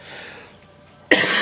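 A person with pink eye coughs once, a sudden loud burst close to the microphone after a quiet, faintly hissing stretch.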